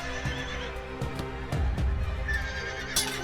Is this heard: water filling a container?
no